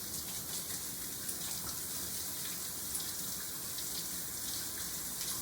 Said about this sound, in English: Turn the water back on and stick the jam back underneath.